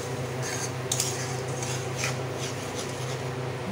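A utensil scrapes and clinks against a pan as spices are stirred into a curd prawn gravy, giving a few soft metallic scrapes over a low background hiss.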